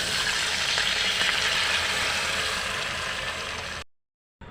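Cooked lentils hit a sizzling tempering of oil, mustard seeds, curry leaves, garlic and chili, giving a loud, even hiss that runs steadily before cutting off abruptly.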